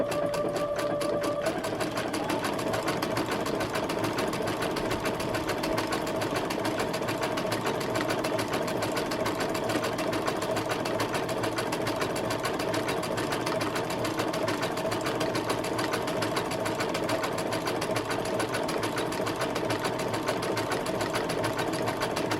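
A sewing machine runs steadily and continuously while stitching a crazy quilt for a washable bed quilt, the presser foot riding along a marked line; the whirring motor hum is close, even and unbroken throughout, with a brief higher tone at the start.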